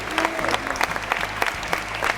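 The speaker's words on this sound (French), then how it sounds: "On peut les applaudir." An audience applauds at a studio event, a brief burst of dense, steady clapping with a few faint voices underneath.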